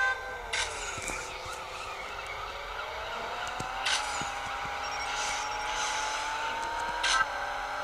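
Racing cars in the CSR Racing mobile game rev and shift with rising engine whines, punctuated by short bursts and tire-like squeals, moderately loud with no talk.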